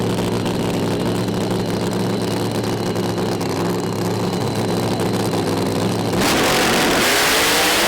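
Pro Mod drag racing cars at a British Drag Racing Championship round launch off the start line, a loud sustained roar of high-powered engines that shifts abruptly to a harsher, broader blast near the end.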